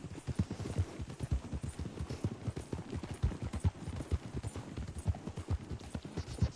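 Horse hooves clip-clop steadily at a walking gait on a path in the Red Dead Redemption 2 video game, close and rhythmic, with light ambient noise and no speech.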